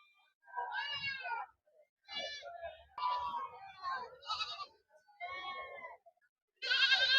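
Goats bleat repeatedly at a busy sheep and goat market, several close wavering cries in separate bursts with short gaps between them.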